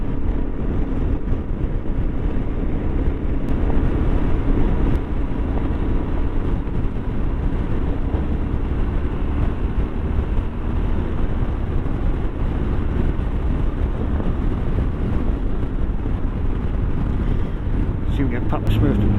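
Yamaha Tenere T7 motorcycle riding along, its engine a steady continuous drone blended with heavy wind rush across the microphone throughout.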